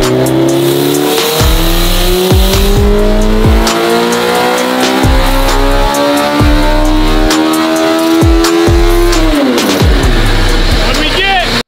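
A Hayabusa motorcycle engine fitted in a mini truck revs hard on nitrous, a loud high-pitched howl rising and falling with repeated sharp bursts and tire squeal, close up, with voices talking over it.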